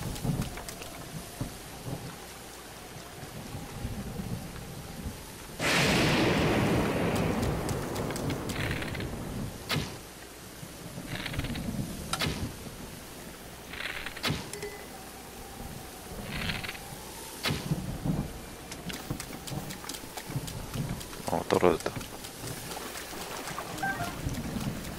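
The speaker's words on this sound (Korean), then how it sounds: "번개칠 것 같아요." Thunderstorm in Zelda: Breath of the Wild, with steady rain hiss throughout, a loud thunder rumble bursting in near the start and sharp crackling lightning strikes repeating across the clip.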